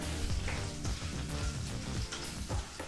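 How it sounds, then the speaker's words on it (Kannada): Garlic and dried red chillies fry gently in oil over a low flame, giving a steady crackling sizzle with a few soft stirring knocks throughout. "ಈಗ ಬೆಳ್ಳುಳ್ಳಿ ಹಾಗೆ ಒಣಮೆಣಸಿನಕಾಯಿನೂ ಸಹ ಎರಡು ನಿಮಿಷಗಳ ಕಾಲ ಲೋ ಫ್ಲೇಮ್ನಲ್ಲೇ ಫ್ರೈ ಮಾಡ್ಕೋಬೇಕಾಗತ್ತೆ"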